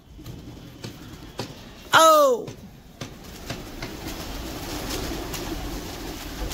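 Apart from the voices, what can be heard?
pigeons cooing and flying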